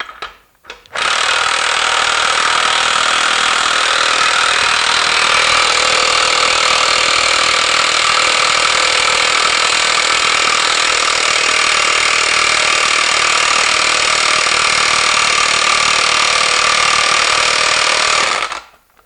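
A NAPA 1/2 inch impact wrench hammers on a bolt in one long, loud, unbroken burst of rapid rattling impacts lasting about eighteen seconds, starting and stopping abruptly, with no talking.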